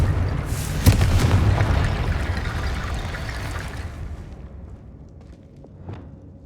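A Confringo spell bursts in Hogwarts Legacy, a loud booming blast with crackling debris that rolls on and fades over several seconds into quieter ambience.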